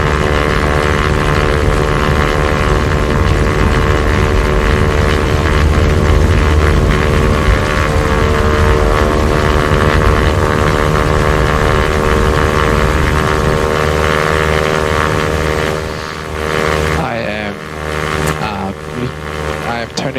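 A propeller airplane engine runs at full throttle during the takeoff roll, a loud, steady, close drone with strong harmonic tones that holds for most of the run, then dips and wavers near the end.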